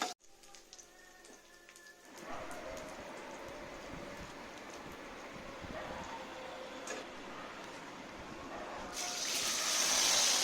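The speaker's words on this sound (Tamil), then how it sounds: "கரைச்சி வச்சிருக்கிற புளி கரைசலை நம்ம இது கூட சேர்த்துக்கலாம்." Tamarind water poured into a hot pan of fried chillies, a sudden loud sizzling hiss that swells after a quiet start and keeps crackling, rising again toward the end.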